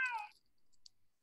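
A single short, high cat meow up close, followed by near silence with one faint click.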